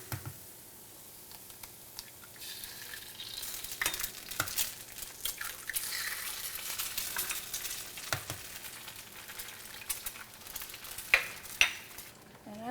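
Shallots and garlic sizzling in a pan over medium-high heat, a faint steady crackle with scattered light ticks and spatula scrapes, close but quiet.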